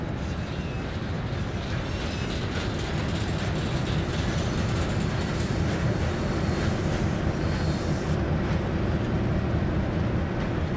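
A diesel locomotive in Train Sim World 2020 pulls a dead engine at low throttle, giving a steady, continuous low engine rumble with rail noise that holds evenly throughout, no talk.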